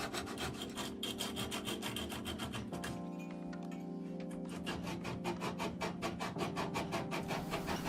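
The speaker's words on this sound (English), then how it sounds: "My mini Stanley pull saw that I bought years ago to trim dowel joinery." Mini Stanley pull saw cutting a block of wooden kitchen worktop, giving close, rapid rhythmic rasping strokes with a short pause midway before the sawing resumes, no speech.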